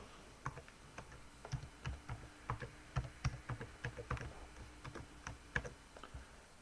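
Password being typed on a computer keyboard, heard as quick, irregular clicking keystrokes that are close and fairly quiet, with no talking.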